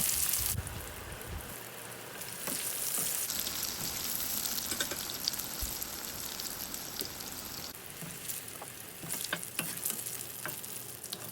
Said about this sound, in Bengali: আমি এখন আমার বাকি যতটুকু অংশ বেগুন আছে ওগুলোকেও ফ্রাই করে নিব